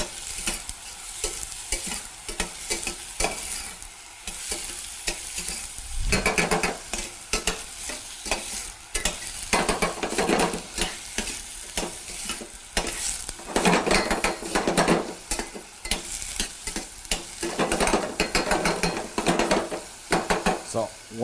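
Mixed vegetables and carrots sauté in a pan with a constant loud sizzle, overlaid by frequent rhythmic scrapes and clanks of a spatula against the metal, with no talking.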